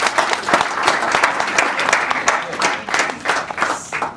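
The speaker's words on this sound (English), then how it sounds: "Let's give him a big round of applause." Audience applause at a Toastmasters installation ceremony, a sustained round of clapping lasting several seconds with the crowd's clapping fairly loud and continuous.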